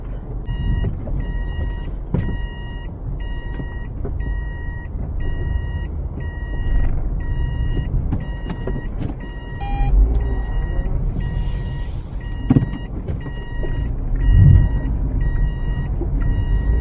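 A car reverses slowly under a low engine rumble while regular reversing beeps repeat steadily throughout, with a few brief louder knocks and a short extra chime.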